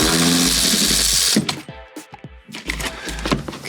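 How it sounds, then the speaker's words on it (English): A rusty seat bolt in a Porsche 914 snaps with a sudden crack, followed by short tool clicks and scraping. A steady mechanical whir comes first, and a few sharp close knocks follow the break. "You want to break off the bolt."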